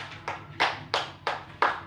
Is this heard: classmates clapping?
yes